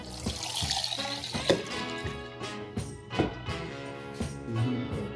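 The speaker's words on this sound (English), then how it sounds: "I'm gonna stir up the water." Water is stirred in a pot to hydrate dried chilies, sloshing and swirling close by in uneven surges, with light clinks under a faint background tone.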